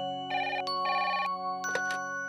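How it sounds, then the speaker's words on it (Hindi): A telephone rings in a quiet home, two clear bursts of electronic ringing with a brief gap between them and a short chirp after. "अक्षरा का फोन होगा शायद"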